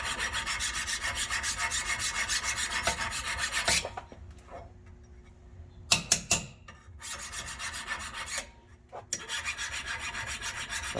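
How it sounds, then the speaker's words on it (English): Rust is scraped and filed off a metal pin from a 2000 International ambulance, with fast rhythmic rasping strokes, then a pause with a few sharp scrapes before the steady rasping resumes, close and alone. "All we want to do is take the rust out."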